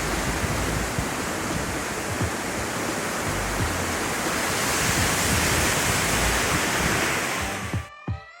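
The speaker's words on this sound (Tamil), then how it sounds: "இதுதான் பெரிய கனால் வாட்டர் ஃபால்ஸு." Periya Canal waterfall near Munnar roars as a loud, steady wash of falling water, dense and continuous throughout, before cutting off abruptly with a few knocks at the end.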